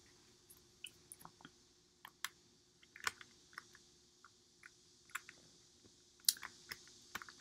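Someone types on a computer keyboard, irregular sharp clicks and taps spread across quiet surroundings, close and fairly faint, with a few louder keystrokes.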